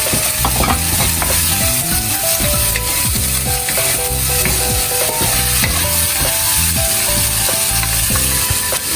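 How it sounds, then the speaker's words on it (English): Egg fried rice with prawns and cucumber stir-frying in a pan, a loud steady sizzle under constant rapid scraping and clattering of a utensil against the pan, with no talk. "Now add in the cucumber."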